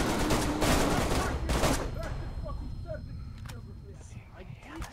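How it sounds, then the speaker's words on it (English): Burst of automatic gunfire in the survival video game DayZ, loud rapid shots crowding the first two seconds, then fading into scattered distant pops and echoes. "My guns are shooting!"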